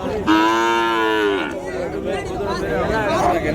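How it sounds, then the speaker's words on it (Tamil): Cow mooing at a native cattle market, one long loud close moo with strong harmonic tones, followed by people talking over a murmur of the market crowd. "சென மாடு, பசு மாடு."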